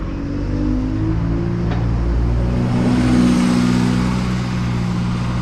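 An Alexander Dennis E200 MMC bus at Flitwick station pulls away, its diesel engine droning low and steady with rising revs as it accelerates, close and loud with no voices.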